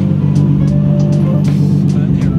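A car engine runs at a steady low drone as it is driven and pulled in, loud and close, with faint clicks and short noises over it and no clear revving.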